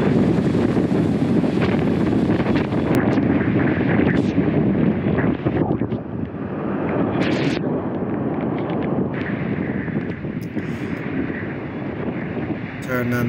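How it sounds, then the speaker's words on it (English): Loud, constant wind buffets the microphone as waves crash onto the Bermuda shore during Hurricane Ernesto, a dense roaring wash broken by occasional higher surges, with a voice faintly underneath. "as you can see here, folks, the waves crashing in on the area here"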